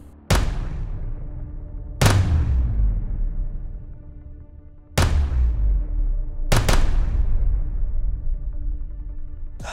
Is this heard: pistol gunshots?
yes